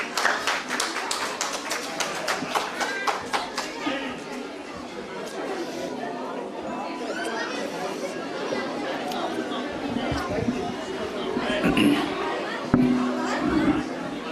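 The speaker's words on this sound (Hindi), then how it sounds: "जोरदार तालियां" Audience at a children's competition claps for the chief guest, a state water supply minister. Scattered clapping is densest in the opening seconds, then thins into ongoing crowd chatter and murmuring throughout.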